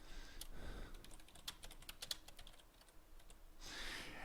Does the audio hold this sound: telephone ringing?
no